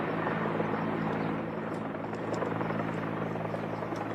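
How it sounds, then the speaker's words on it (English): A police helicopter circles above a Washington, D.C. shooting scene, its rotor drone steady and moderately distant, a continuous whirring hum with no voices. "And you can hear the chopper from above."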